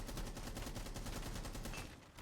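Rapid gunfire in Rainbow Six Siege, a fast burst of shots fired through a wall, rhythmic and dense, moderately quiet throughout.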